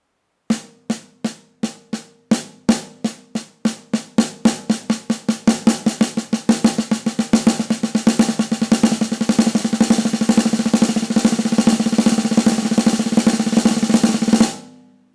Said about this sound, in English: So we can chain a lot of six-stroke rolls together.